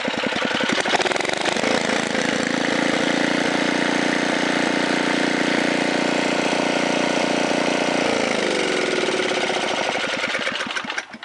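A 1978 Tecumseh HS40 4 hp L-head small engine runs loud and steady on an unsecured bench with a rattling idle, then winds down near the end. Nobody speaks.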